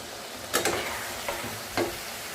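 Spices, ginger paste and onion paste being stirred and fried for a fish-head murighonto, a steady sizzle broken by a few sharp spatula scrapes, close and fairly loud, no talk.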